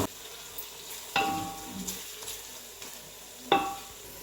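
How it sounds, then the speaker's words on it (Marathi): Onion and tomato frying in a pan while being stirred: soft sizzling throughout, broken by a few sharp scrapes and clinks of the spoon against the pan. "आता टोमॅटो पण टाकून भाजूया। हे भाजून घेऊया सगळं छान।"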